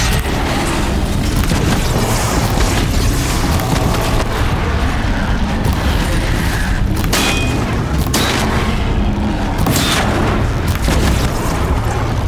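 In the video game Horizon Zero Dawn, heavy booms and splintering crashes roll on in a dense, loud barrage as a Thunderjaw's mounted cannon is destroyed, with sharp bursts standing out from a constant rumble.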